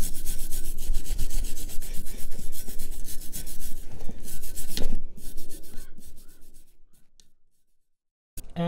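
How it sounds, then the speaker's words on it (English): A wire brush scrubs rust off dumbbells in steady, close, rasping strokes that stop about seven seconds in, leaving near silence before a brief clunk at the end. "Just hit the rustier areas with the brush. And it's coming off really easy."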